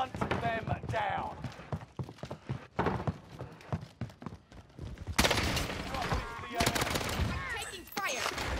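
Rapid bursts of automatic gunfire from a Vargo 52 rifle in Warzone on Rebirth Island crackle in quick strings, with players talking over the shooting.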